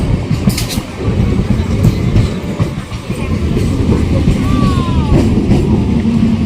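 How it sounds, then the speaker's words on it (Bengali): A train rolls through Ukilhat station, a loud, close, continuous rumble of wheels and carriages with a brief high squeal partway through and faint voices in the background. "আর ট্রেনটা যাচ্ছে কি সুন্দর"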